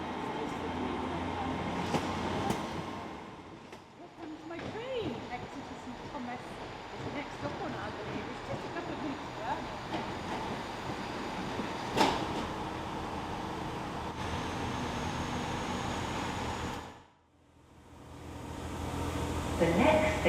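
Inside a moving Great Western Railway train, a steady rumbling roar of wheels and carriage noise carries on under people talking, with a brief near-silent dip before the din returns.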